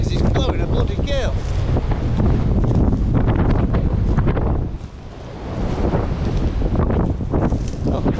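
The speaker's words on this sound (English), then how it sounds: "I don't know what you can hear because it's blowing a bloody gale." A strong gale roars and buffets the microphone outdoors at a property with storm-felled trees, loud and continuous with a brief lull midway, and voices faint beneath it.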